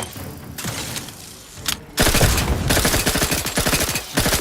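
Heavy automatic gunfire in The Outer Worlds 2 during a firefight at Outpost Opportunity: a quieter first stretch gives way to loud, sustained rapid bursts with thuds and booms, close and dense, with no talking.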